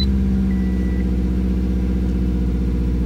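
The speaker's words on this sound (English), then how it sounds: "Idling a tiny bit high." Subaru WRX engine with a new turbo inlet idling steadily and slightly high, a close, even rumble with a faint whine and no voices.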